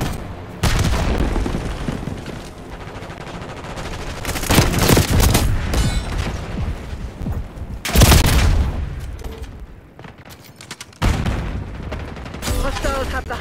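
Frag grenade blast amid gunfire in Call of Duty Black Ops multiplayer, dense bursts of shooting and several heavy booms scattered through a chaotic battle, loud and close, with some game voice chatter mixed in.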